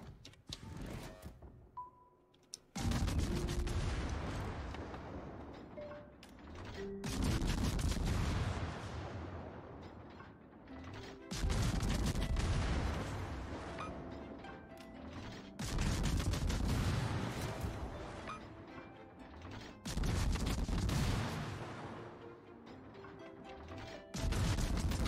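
Heavy naval guns boom in World of Warships, roughly five or six big broadside salvos spaced a few seconds apart, each a loud blast that decays into a long rumbling tail.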